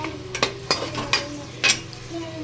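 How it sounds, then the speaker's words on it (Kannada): Green peas fry in a little oil in a pan, with a soft sizzle under several sharp scrapes and clinks of a spoon stirring, close by and fairly quiet. "ಆದಮೇಲೆ ಬಟಾಣಿನ ಸ್ವಲ್ಪ ಎಣ್ಣೆಯಲ್ಲಿ ಫ್ರೈ ಆಗಕ್ಕೆ ಬಿಡಬೇಕು"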